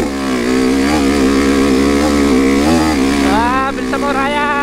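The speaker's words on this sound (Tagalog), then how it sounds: "Wala pa namang gapang tong motor ko." A motorcycle engine climbing a dirt trail uphill drones loudly and steadily, close by, its pitch wavering and then climbing as it revs harder.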